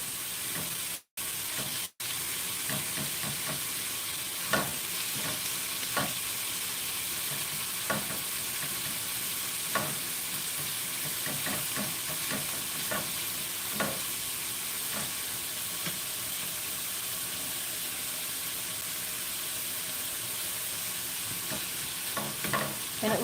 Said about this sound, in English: Now I can stir it up and it'll start to kind of separate and flake